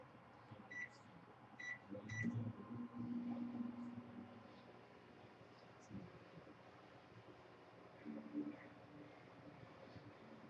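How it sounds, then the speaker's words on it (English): A microwave oven runs in a home kitchen while food is softened for falafel, a faint low steady hum with a few soft beeps near the start and occasional quiet bumps. "I'll toss it in the microwave for"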